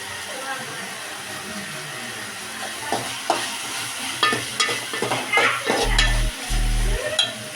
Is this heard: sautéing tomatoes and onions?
yes